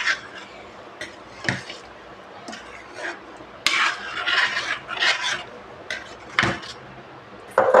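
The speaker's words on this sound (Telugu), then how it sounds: "ఒకసారి మొత్తం కూడా ఈ విధంగా కలిపేసుకొని" A spoon stirs dhaba-style egg masala curry in a pan, making close, intermittent scraping strokes in short bursts against a quiet background.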